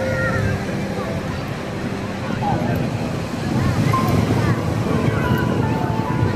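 Strong sea wind buffeting the microphone on a beach, a constant low roar and rumble mixed with surf wash, while people talk faintly in the background.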